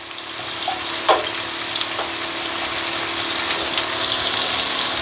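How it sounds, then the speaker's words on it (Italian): Chopped leek sautéing in a pan, a steady bright sizzle running throughout with a few brief clinks of a utensil near the start. "Ora iniziamo a mettere a soffriggere il porro."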